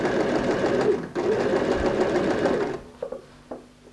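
A sewing machine top stitches along the edge of a thin bag lining, running steadily and loud up close for nearly three seconds, then stopping, followed by a few light clicks and handling sounds.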